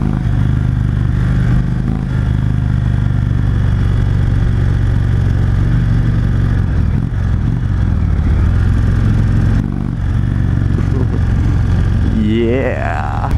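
A 2016 Indian Chief Dark Horse motorcycle at full throttle on a test ride roars loud and close throughout, a dense engine drone with wind rush and no pauses.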